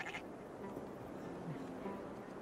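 Sheep bleating in Assassin's Creed Valhalla, a faint, low flock call rising under a steady game ambience and a soft musical bed, with a brief brighter sound at the start.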